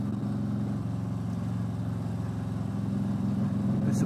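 A Harley-Davidson motorcycle being ridden on a cold day, its engine a steady low throbbing drone at cruising speed with no clear revving, continuous throughout.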